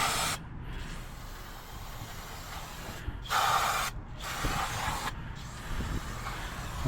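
Several short hissing blasts of aerosol brake cleaner sprayed onto the front brake parts of a Toyota Tacoma 4x4, separated by brief pauses, close and fairly quiet over steady outdoor background noise.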